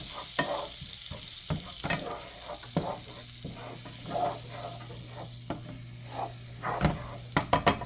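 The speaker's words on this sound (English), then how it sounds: "I'm going to put a little bit of flour in just to make a roux. And I'm going to brown it up." Flour sizzles steadily in a hot pan with butter as a roux browns, with occasional close scrapes and taps of a utensil stirring it and no speech.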